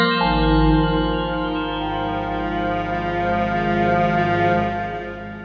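A Korg M1 synthesizer plays the Hypersynth pad preset August: a lush sustained chord with rich layered harmonics swells in at once and holds steadily, clear and alone, for several seconds before easing off slightly.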